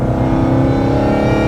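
Supercharged 862bhp Ford Mustang GT engine holding a loud, steady, deep drone with a strong low rumble, close and continuous, with no talking.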